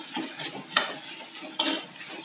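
Lauki (bottle gourd) sabzi with green chili, red chili and coriander stirred in a pan, soft scraping strokes of a spoon against metal in an uneven rhythm, with a couple of sharper knocks, close and fairly quiet, no talking.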